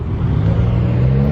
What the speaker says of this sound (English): Oh, it's a Hellcat.